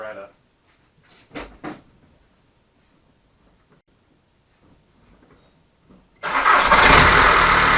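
A Jeep Wrangler TDI diesel engine cranks and fires up near the end, settling into a loud steady run after some brief speech-like sounds and quiet.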